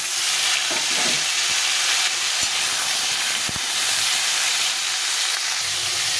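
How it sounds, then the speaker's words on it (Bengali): Pieces of ridge gourd and pointed gourd fry in a pan with a loud, steady, dense sizzle and hiss throughout, marked by a few sharp pops and clicks. "এখন আমি এই দুটো ঝিঙে পটল দিয়েছি আর ঝিঙে দিয়েছি ঝিঙে পটলটাকে ভেজে নেব"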